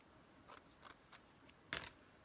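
Scissors snip through sewn fabric, a few separate crisp cuts at uneven intervals, close and quiet, with a louder double snip at the end.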